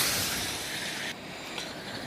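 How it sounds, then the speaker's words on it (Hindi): A Mumbai local train rushes past near a railway station, a loud, continuous roaring hiss of wheels and cars close by that eases slightly partway through, with no talking. "ये फिर से एक लोकल ट्रेन आ चुकी है।"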